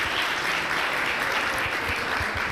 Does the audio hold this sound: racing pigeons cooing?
no